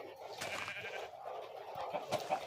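Minecraft sheep bleat in short wavering cries over a steady background hum, with a few sharper calls near the end.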